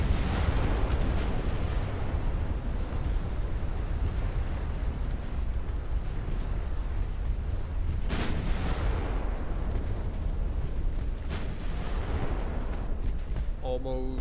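Booming explosions of warship turrets blowing apart in a naval warfare video game, heavy rumbling blasts with a sharp burst near the middle, under continuous talk.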